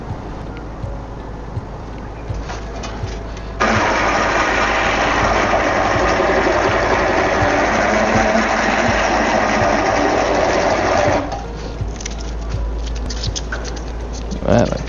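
A homemade motorized bead roller runs at half speed, giving a steady, loud mechanical whir that holds for several seconds and then stops, with quieter workshop noise around it.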